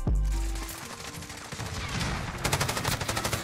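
LMG gunfire in Modern Warfare, with a heavy opening blast followed by bursts of rapid, rhythmic automatic fire growing denser toward the end, loud and close.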